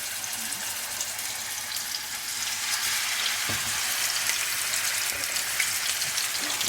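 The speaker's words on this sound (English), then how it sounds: "And that's the chicken going in." Chicken fries in hot oil with a dense, continuous crackling sizzle that grows slightly louder midway, close by and without voices.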